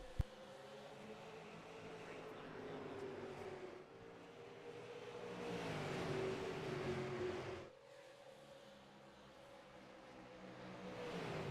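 Late model race cars roar off the start at Bristol Motor Speedway in iRacing, a steady, droning pack of engines whose pitch rises and falls as they accelerate. The sound is continuous and fairly loud, with no talk.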